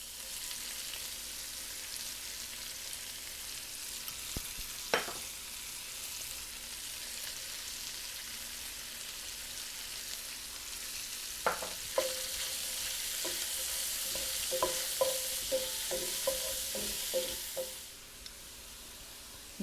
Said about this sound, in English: Then I'm going to go ahead and add my onion and green pepper.